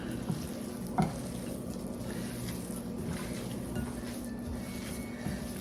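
Meat and pepperoni filling for stuffed shells being mixed in a bowl, a soft continuous stirring and squishing with one sharp knock near the start, close and fairly quiet.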